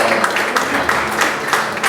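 Audience applause at a book launch event in a hall, a steady patter of many hands clapping close by with uneven bursts, no voices over it.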